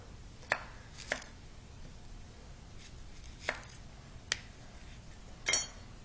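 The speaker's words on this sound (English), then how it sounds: "And then we're going to chop up 2 yellow onions." A knife chops yellow onions with sparse, sharp cuts landing unevenly against a quiet background, about six distinct close thuds with no talk.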